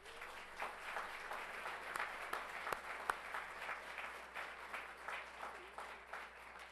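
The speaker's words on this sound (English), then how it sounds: "you're already applauding" Audience at a school governing board meeting applauding a teacher, steady sustained clapping from many hands in a room, moderately faint and continuous, with a few sharper individual claps standing out.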